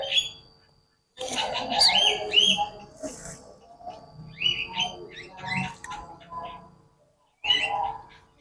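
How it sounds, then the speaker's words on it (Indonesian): A small bird sings in short chirping bursts with pauses between, fairly close and clear, while people talk softly nearby. "Tuh lihat burung itu. Bisa nyanyi sekarang burung."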